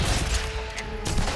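Gunfire in Sniper Elite 5, loud booming shots with low-heavy reports at the start and again near the end, separated by a brief ringing tone in a busy game soundscape.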